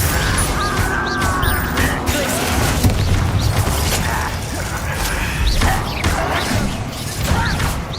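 Bombarda and Confringo spell blasts in the Hogwarts Legacy video game, a steady clamour of magical bangs, crashes and mechanical clatter under a busy battle mix, with no clear talking.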